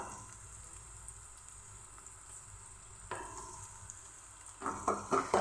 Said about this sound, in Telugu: ఇప్పుడైతే అల్లం వేసుకుంటున్నా.